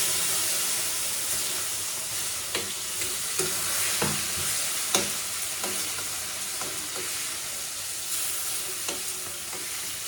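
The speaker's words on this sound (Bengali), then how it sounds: "এখন আমি এই প্রথমে বড় মাছগুলো ভেজে নেব।" Large fish lowered into well-heated oil in a home kitchen, sizzling steadily and loudly close by with sharp crackles and pops scattered throughout, no talking.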